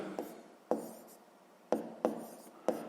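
A pen writes out a math exercise for sixth grade on paper in short, soft strokes and taps, about five distinct scratches in quick irregular succession, close and quiet, with no talking.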